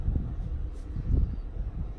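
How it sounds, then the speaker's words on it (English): Wind gusts buffet the microphone in low, rumbling surges at an Oregon wildlife safari park, close and fairly loud with no voices. "It's just windy and cold up here."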